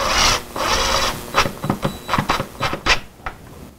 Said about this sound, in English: using a couple of drywall screws. Snug that first screw up